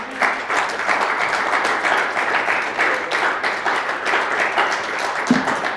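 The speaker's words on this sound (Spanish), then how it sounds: "Le damos un aplauso al Señor, hermanos." A church congregation applauds together in a sustained, dense round of clapping that fills the room, loud and steady, with a few voices mixed in.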